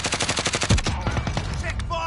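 Rapid automatic gunfire in the video game Warzone, a fast burst of loud close shots in the first second, then scattered fainter shots and game noise, with no talk over it.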